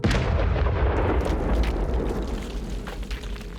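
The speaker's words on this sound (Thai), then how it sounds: "ลงมือระเบิดช่องทางออกด้วยระเบิดแรงสูง" A heavy, rumbling high-explosive blast at a waterfall mouth, with dense low-frequency roar and crackling debris that sustains for several seconds before slowly tapering, loud and close.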